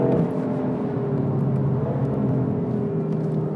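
A BMW powers out of a corner on the Mondello race track, its engine note a steady, fairly loud rumbling drone held close throughout with no talk.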